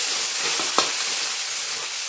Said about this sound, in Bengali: তো পেঁয়াজটা একটু ভাজা ভাজা করে নেবো আমি